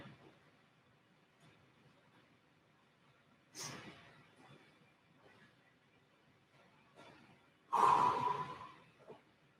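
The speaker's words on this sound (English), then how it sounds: "Breathing, breathing, breathing. Into the nose, out through the mouth." Slow breathing during a Krav Maga workout rest, air drawn in through the nose and pushed out through the mouth, with a few soft breaths and two louder, sharper exhalations standing out.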